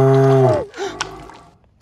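A cow gives one loud, close moo that tails off, followed by some faint rustling and a short scrape, with no voices over it.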